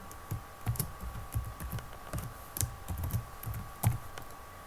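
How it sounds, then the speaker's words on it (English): Irregular bursts of close, quiet keystrokes on a computer keyboard as a new password is typed, soft clicks in short clusters with small pauses between them. "And then I'm going to type in the new password that I want to have for my account."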